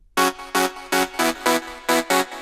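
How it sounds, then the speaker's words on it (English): A buzzy synth chord pulses in short repeated stabs, about seven evenly spaced hits with a bright, hollow, slightly wobbling tone. "which is a really classic wavetable of a Alpha Juno synth"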